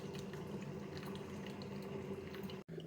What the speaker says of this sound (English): It's just starting to brew there, the 12 cups there.